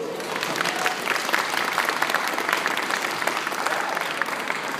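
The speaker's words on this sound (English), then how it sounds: "Round of applause." Audience at a panel breaking into steady, even applause, a continuous wash of many hands clapping at a constant level throughout, with no voices standing out.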